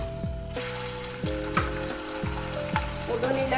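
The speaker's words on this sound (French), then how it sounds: "on va commencer à faire revenir ma viande" Meat browning in a pot as the base for an Algerian vegetable couscous, a steady close sizzle and crackle with periodic scraping strokes from stirring, no voices.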